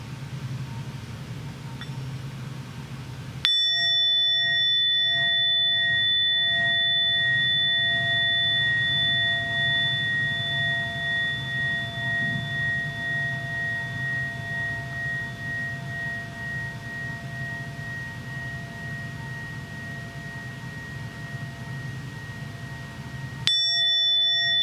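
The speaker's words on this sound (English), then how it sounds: "return your attention to the sound of the bell" A bell strikes once and rings out in a long, steady, pure tone that sustains for about twenty seconds over a low background hum, then a second strike arrives.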